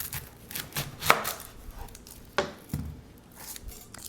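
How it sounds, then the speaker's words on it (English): Half a red onion is chopped with a knife on a board, a few distinct close cuts spaced irregularly, the sharpest around the middle, with no voices. "you can dice it up or you can slice it into very thin half circle slices"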